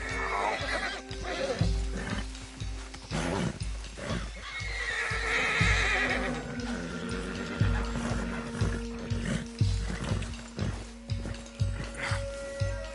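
A horse neighs and whinnies loudly while its hooves clop and shuffle on the ground in an uneven rhythm, close by, with a rider's brief voice urging it on.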